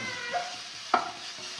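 Crushed garlic-ginger paste frying in hot oil, a soft continuous sizzle with a spoon scraping and stirring, one sharper clink of utensil against the pan.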